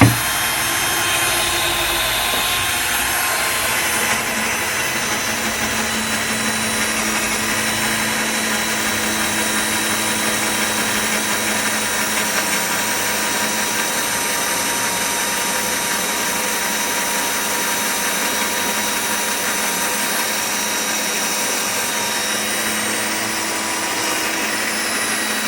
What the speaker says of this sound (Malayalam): ഒരു മരമൊക്കെ തുളക്കാൻ പോവുകയാണ്